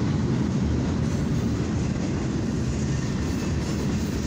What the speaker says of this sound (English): this train is known as CFE-09, proceeding from Adams to Cole on the main track here